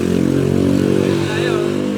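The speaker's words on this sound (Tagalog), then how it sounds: "Kumusta yung motor tayo? Okay naman?" Motorcycle engine idling steadily and close by for the whole stretch, a low continuous drone with no clear revving.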